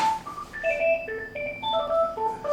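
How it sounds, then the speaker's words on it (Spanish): A telephone rings with a melodic electronic ringtone, a quick sequence of bright beeping notes repeating steadily at moderate volume in a quiet indoor room. "otra vez el teléfono."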